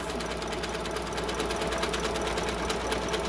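A sewing machine runs continuously, stitching a fabric face mask tube in a fast, even mechanical rattle that stays steady and close throughout.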